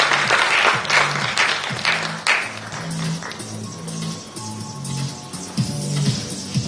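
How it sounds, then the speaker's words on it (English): Audience applauding a speaker at a sustainability conference, with a burst of brisk clapping that thins out, while a low rhythmic thumping continues underneath. "Give him a big round of applause."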